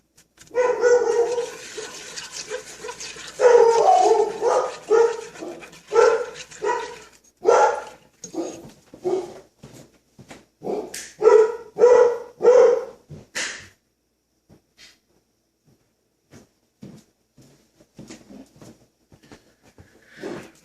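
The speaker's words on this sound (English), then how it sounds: "Excuse my dog." A dog indoors barks loudly and close by in a long run of about a dozen sharp barks, each followed by a brief gap, before fading into quieter, softer sounds.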